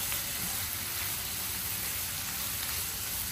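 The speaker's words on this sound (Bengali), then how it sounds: "শুটকিটা দেওয়ার পর আমি কিছুক্ষণ ভালো করে এটাতে মশলা মিশিয়ে কষিয়ে নিব।" Dried laitta fish (Bombay duck) being stir-fried with spices in a pan gives a steady, dense sizzle that holds at an even level throughout, with no talking.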